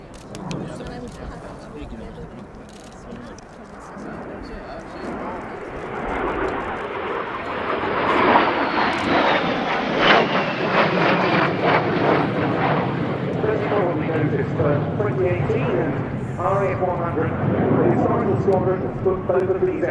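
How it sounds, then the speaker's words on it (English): A pair of ex-Swiss Air Force de Havilland Vampire jets, a two-seat T.55 and a single-seat FB.6 fighter-bomber, fly a display at an airshow, their jet roar swelling from distant to loud and sweeping past while a commentator talks over the public address. "The lead aircraft is a two-seat T-55. The second one, a single-seat FB-6 fighter bomber."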